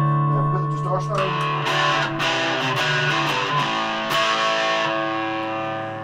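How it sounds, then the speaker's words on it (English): Sustained, buzzy distorted electric guitar chords through a Custom Sound 45-watt combo amp ringing out loud and saturated, with a thick fuzzy edge that holds and slowly fades. "I've got the distortion on."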